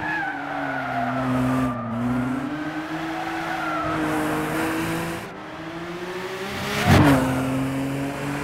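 Race car tyres skid and squeal in a long, wavering drift in Gran Turismo, loud and close over a droning engine, with a sharp burst of noise near the end as the car crosses a kerb.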